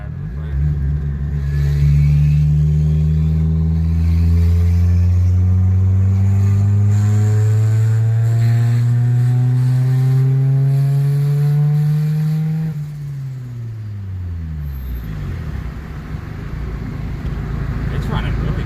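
A boosted Honda EG's engine, just back on the road after a clutch master and slave cylinder replacement, revs up steadily through a long loud pull, then drops and settles; a voice talks over it.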